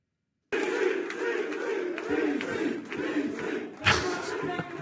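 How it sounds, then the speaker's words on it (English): A packed UFC arena crowd roars loudly and continuously for a reveal, with a sudden louder surge of cheering near the end. "Here's the DC reveal pop."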